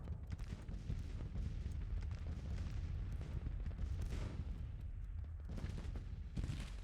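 Massed rifle and artillery fire from Civil War troops in a strategy video game, a dense continuous rumble of shots and booms with no talking.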